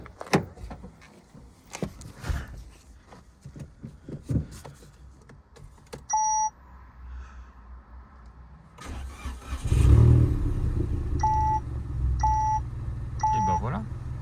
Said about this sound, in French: Elle tourne bien sur ces 3 cylindres, nickel.